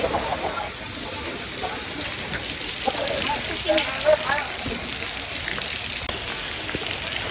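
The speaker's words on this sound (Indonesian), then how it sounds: "Dan ini posisinya lagi hujan." Steady rain falls outdoors at a historic building site, a broad continuous hiss with scattered drops close by, running under faint crowd noise and bits of nearby talk.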